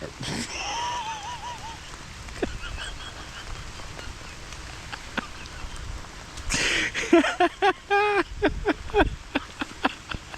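Rain patters steadily with scattered louder drips, while a voice makes brief vocal sounds over it near the start and again toward the end.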